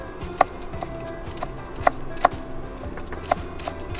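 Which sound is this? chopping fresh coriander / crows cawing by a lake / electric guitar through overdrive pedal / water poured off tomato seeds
chopping fresh coriander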